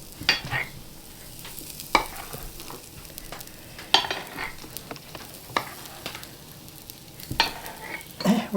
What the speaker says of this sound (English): I would like to hear it sizzle.